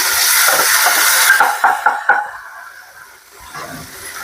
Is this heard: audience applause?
no